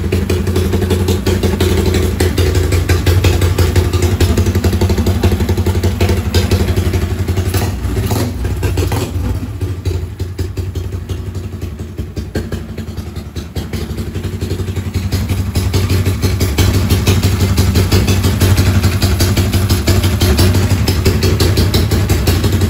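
A Yamaha RXZ motorcycle engine, freshly rebuilt with a Tobaki carburetor, runs loud and close, a steady clattering idle that dips slightly midway and then rises again.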